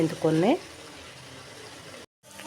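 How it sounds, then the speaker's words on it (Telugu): Fenugreek leaves fry in oil for a tomato curry, giving a soft, steady sizzle. A brief voice comes at the start, and the sound cuts out for a moment near the end. "మెంతికూర ఆయిల్లో బాగా వేగాలన్నమాట"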